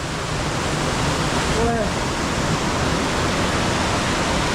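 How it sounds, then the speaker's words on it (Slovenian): The Vorotan River in Armenia rushes loudly and steadily, a dense close roar of flowing water that never lets up, with a brief spoken remark partly buried beneath it. "To pa zdaj je reka Vorotan."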